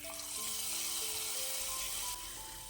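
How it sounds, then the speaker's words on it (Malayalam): Mustard seeds sizzle in hot oil for tempering in a Kerala-style carrot curry, a quiet, even hiss close up, overlaid with faint tonal notes and no speech. "ഇനി കടുക് താളിക്കാം"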